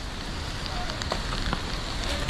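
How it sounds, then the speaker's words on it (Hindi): Steady rain falls on the Kedarnath trek trail in the Himalayas, a dense close patter with scattered sharper drops, and no talk. "हो रही है बारिश, बहुत मुश्किल है"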